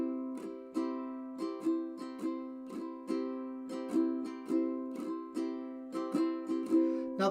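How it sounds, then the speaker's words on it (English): Calypso or island strum on a ukulele, a steady pattern of bright strummed chords with sharp down and up strokes, played alone and close with no talking. "Now that calypso strum sounds like this."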